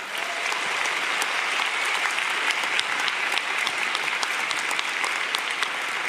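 An audience at a university master's graduation evening applauds, a dense, steady burst of clapping that holds throughout.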